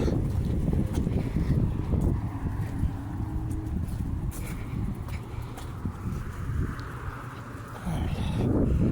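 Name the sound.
wind blowing outdoors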